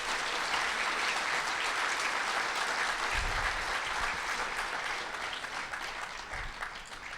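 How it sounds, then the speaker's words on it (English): An audience claps steadily in a broad, dense wash of applause after a speaker is introduced at a formal talk, holding strong throughout and easing slightly toward the end. "I'd like everyone to give a big round of applause to Bobby de Ocampo"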